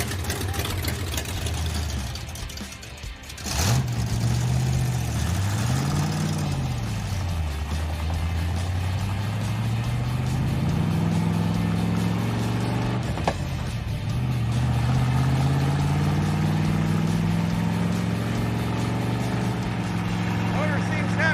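Dodge Daytona pro street car engine idling after a rev: a deep rumbling idle that surges and settles, loud and close, with a sharp rev near the start and voices talking over it.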